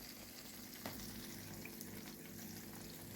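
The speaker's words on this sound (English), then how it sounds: "Oil is still bubbling" Hot oil bubbling and sizzling faintly while frying ham skin, a steady crackling hiss with occasional small pops, no voices.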